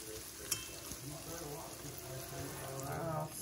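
Hog jaws simmer in a pan with a steady, close bubbling sizzle that runs on without a break, and a short clink comes near the start.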